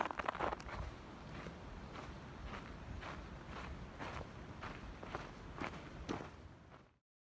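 Footsteps crunch across a snow-covered frozen lake in the High Sierras, a steady walking rhythm of about a dozen soft, close crunches over a quiet outdoor hush that cuts off abruptly at the end.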